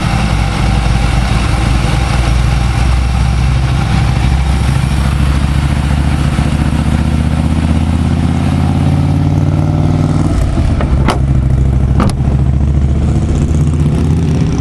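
A 2000 Pontiac Bonneville SSEi with a supercharged 3.8 engine idles smoothly under an open hood, a loud, steady low rumble throughout with a couple of brief sharp clicks near the end.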